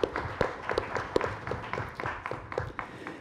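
Scattered, modest clapping from an audience at a Korean policy forum welcoming a panel discussant, uneven individual claps heard fairly close, thinning rather than building into a full ovation.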